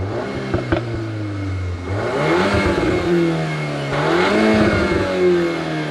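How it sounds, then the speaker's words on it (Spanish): A 2021 VW Golf R in Race mode revs its exhaust loudly and close, the engine note climbing, dropping and rising again in repeated swells over a steady idle. "Es un sonido limpio de su tubo de escape."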